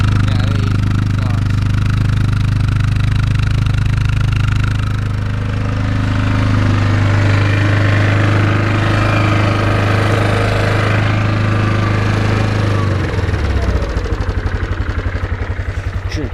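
A 2004 Yamaha Kodiak 450 ATV engine idles steadily after a cold start following a month of sitting, with a loud, constant low drone that shifts and settles near the end while people talk over it.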